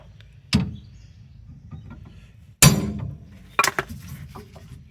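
Two sharp metallic hammer strikes ring out about two seconds apart, followed by a third, knocking a stuck strut rod held by a rubber bushing loose on a 1969 Mustang's front suspension, close and loud with quiet pauses between.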